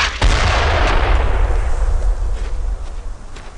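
Gunfire from an M3 grease gun in the video game Brothers in Arms: Earned in Blood, a loud, close burst that booms and rolls off into a long reverberant tail, with a few faint later pops.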